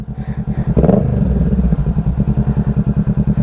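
A 2022 Kawasaki Ninja 650 motorcycle revs up and pulls away loudly and close by, its engine firing in a fast, steady pulse with a brief rise in pitch as it accelerates.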